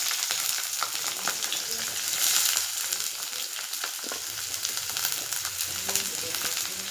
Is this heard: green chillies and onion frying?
yes